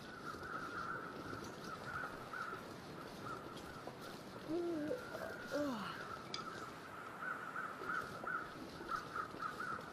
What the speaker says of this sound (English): So many crows now it's hard to hear.